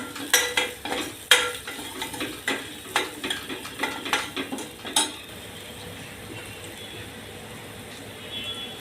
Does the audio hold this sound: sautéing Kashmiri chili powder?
yes